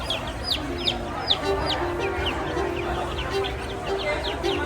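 Chickens for sale at a reptile expo in Orlando cluck in short bursts and scattered chirps over a busy, steady hall murmur, with faint crowd noise throughout.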